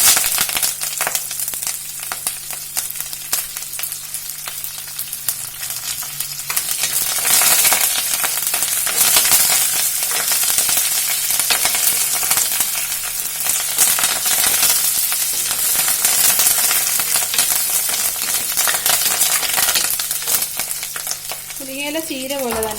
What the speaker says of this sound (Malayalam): ഇനി നമുക്ക് നമ്മൾ എടുത്ത് വെച്ചിരുന്ന മുരിങ്ങയില ഇട്ട് കൊടുക്കാം.